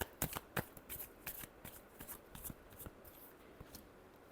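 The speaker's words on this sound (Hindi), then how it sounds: "last shuffle" A deck of tarot cards is shuffled by hand in a quiet room, with soft riffling and a series of sharp slaps and flicks at uneven intervals, fairly close and faint.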